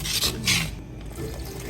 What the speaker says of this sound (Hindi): हल्के हल्के हाथ से पानी डालें इसमें और इसको मिक्स करते जाएं